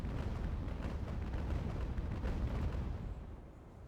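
Rolling cannon broadside from sailing warships in a naval battle at the Nile, a dense continuous rumble of overlapping booms that holds steady and then thins out toward the end, with no voices.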